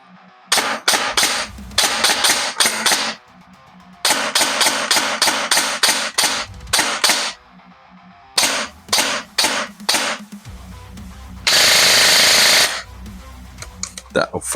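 A JingJi SLR gel blaster fitted with an MK Tactical V2M CNC gearbox fires in rapid bursts of sharp, close mechanical cracks separated by brief pauses, ending with a short hiss.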